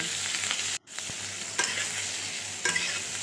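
Cut eggplant frying in hot oil in a kadai with salt and turmeric, giving a steady close sizzle broken by a short gap near the start and a few louder bursts, with no voices.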